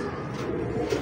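Bulb chapra pigeons cooing close by, a soft continuous throaty coo with a slight swell near the end and no talking.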